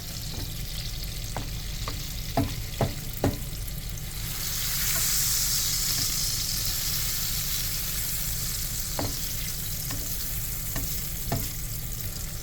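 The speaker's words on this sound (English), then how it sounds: "turn the heat down a little bit, and I'm just going to let that simmer" Food simmers and sizzles in a copper ceramic non-stick pan while cooking in a van, a low, steady hiss broken by a few sharp utensil clicks and taps against the pan.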